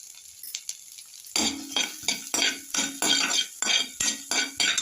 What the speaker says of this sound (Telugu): ఇప్పుడు కొన్ని ఆనియన్స్ ఫ్రై చేసుకోవాలన్నమాట.